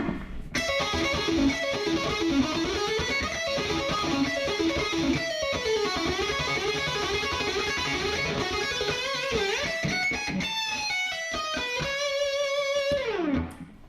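Fast electric guitar lead runs steady sixteenth-note patterns, bright and sustained, climbing into a sweeping arpeggio before stopping abruptly near the end.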